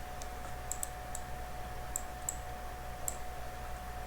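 A computer mouse button clicks while faces are being selected in a CAD program, several sharp light clicks spread irregularly over a low steady hum, faint and close, no talking.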